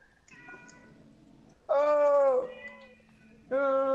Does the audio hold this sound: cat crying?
yes